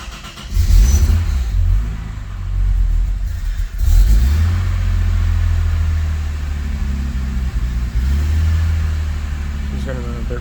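A drift ute's engine turns over and catches, then keeps running with an uneven, lumpy low rumble and a few revs. A person talks over it.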